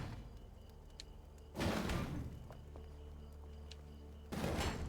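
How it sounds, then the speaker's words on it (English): A big heavy door clunks open twice in the video game Enshrouded, each time with a loud, booming scrape followed by a lingering rumble. Quiet ambience fills the gap between the two clunks. "It's a big heavy door."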